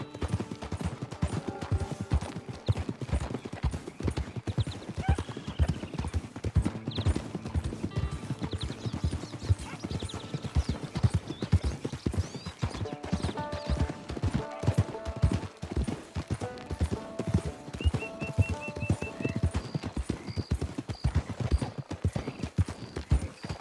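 Horse hooves clip-clopping in the video game Red Dead Online, a steady, close, rhythmic trot throughout, with occasional whinnies, a music bed and brief talk mixed in.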